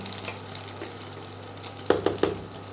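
Food fries in a pan with a soft, continuous sizzle, then three quick scraping stirs near the end, close and fairly quiet.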